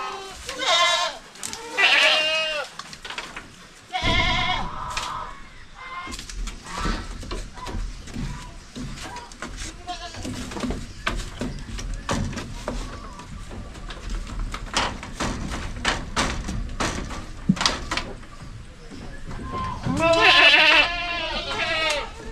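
Goats on a small farm bleat in loud, wavering calls, a cluster near the start and another near the end, with scuffling and other background noise in between.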